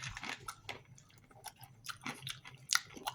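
Someone close by chews crunchy roasted chickpeas in a steady run of crisp crunches and bites, fairly quiet, with no talking.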